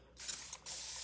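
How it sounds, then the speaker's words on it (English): A spray bottle squirts water in short hissing bursts, two or three quick pumps close by, fairly soft with a slight pause between them. "Spray with water."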